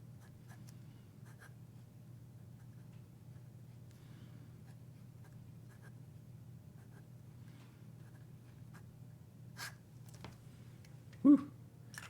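A pen moving over paper, producing faint close scratchy strokes in short bursts against a low steady hum, with one louder swipe near the end.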